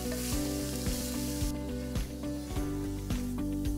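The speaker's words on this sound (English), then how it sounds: "Now we saute this till the spinach is wilted." Spinach with green chilies sautéing in a pan, a steady close sizzle with light stirring scrapes and soft rhythmic taps throughout.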